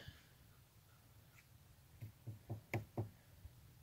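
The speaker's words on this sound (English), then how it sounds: "I think it's actually ice cracking and slamming into each other." River ice at a bridge cracks and knocks together in a burst of about five dull thuds in quick succession, faint and distant against a low background hush.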